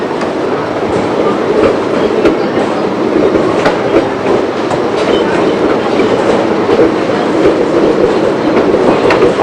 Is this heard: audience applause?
no